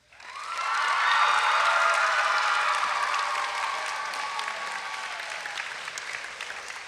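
A school audience at a Christian academy morning assembly breaks into loud, sustained clapping and cheering that swells quickly, holds, then slowly fades, with no talk over it.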